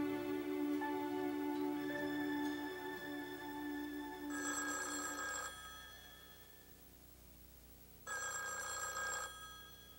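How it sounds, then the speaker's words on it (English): An old telephone bell ringing in two long bursts separated by a pause, loud and near over a soft musical background. "it's the phone. Sure is. Noisy, isn't it?"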